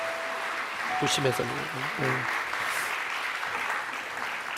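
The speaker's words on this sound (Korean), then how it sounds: "우리 환영의 박수 한번 합시다" A church congregation applauds during an Easter service, a steady wash of clapping that runs throughout, with a voice speaking briefly over it.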